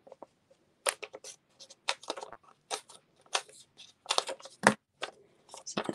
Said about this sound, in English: I'm going to just cut some of these.